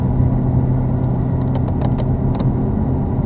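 A Ferrari F430 engine on the Hallett Motor Racing Circuit, a loud, steady mid-pitched drone from close range as the car picks up speed slightly, with faint clicks over it.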